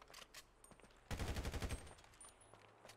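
Rapid burst of automatic gunfire aimed at a monster in the video game GTA 5, loud and close, firing in a tight rhythmic volley for under a second amid fainter scattered game sounds.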